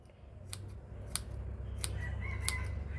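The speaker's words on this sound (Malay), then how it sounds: "pakai gunting je kawan" Scissors snip through raw sardine flesh in a home kitchen, four crisp, separate cuts spaced about every half second over a quiet background hum, with a faint high tone near the end.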